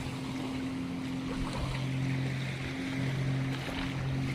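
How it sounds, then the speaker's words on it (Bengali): A boat rocks on the sea among mangrove forest near Havelock, with a steady wash of water and a low, continuous engine-like drone throughout. "নৌকাখানা দুলে দুলে"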